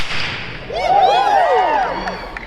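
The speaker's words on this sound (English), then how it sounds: "A whip cracks because the tip of the whip, this string here, momentarily goes faster than the speed of sound." A whip lashes through the air with a swishing sweep and then cracks sharply as its tip breaks the sound barrier, a single close, loud snap.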